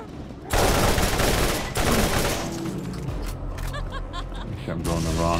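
Combat rifle in Borderlands, the Ajax's Spear Atlas, firing loud rapid bursts in several clusters, with brief gaps between volleys and some voices under the shooting.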